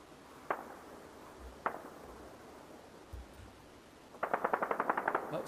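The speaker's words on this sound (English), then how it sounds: "I will go back eventually and try to show you some of those explosions" Gunfire during the attack on Iran: two isolated distant shots and low thumps, then a rapid automatic burst of about ten rounds, faint and echoing over steady background noise, with no speech.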